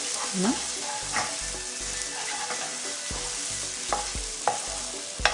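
Egg fried rice with onion masala stir-frying in a pan, a constant sizzle with repeated scraping and knocking of the spatula at irregular intervals, with no voices.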